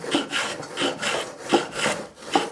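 A handmade wooden coffin hand plane is pushed along a wooden plank in about six rhythmic strokes, each a soft close rasping shave.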